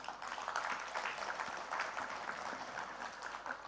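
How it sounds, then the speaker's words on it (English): Audience applause for government ministers at the launch of a national energy transition roadmap, steady and fairly distant across the whole stretch, with no voices over it. "A round of applause to the ministers."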